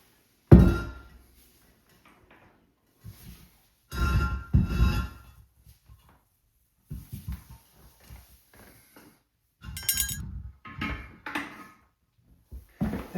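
A porcelain toilet bowl is lowered onto a wax ring over the drain hole during a home installation, giving a sharp thud and several softer knocks and clunks with quiet gaps between, close by and without talk.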